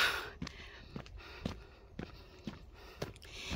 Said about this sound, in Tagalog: Hinihingal na ako.